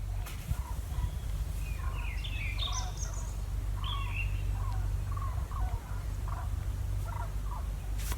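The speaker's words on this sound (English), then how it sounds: "It's a massive wing of geese." A large flock of geese calling outdoors, many faint honking calls scattered over a steady low background rumble, moderately distant.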